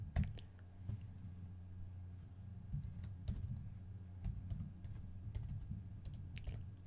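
Fingers type on a computer keyboard, entering a WHM username in short, quiet bursts of key clicks over a low steady hum.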